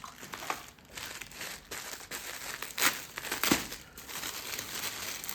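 Plastic package of fishing supplies being opened up close, with bursts of crinkling and crackling that come and go in irregular handfuls.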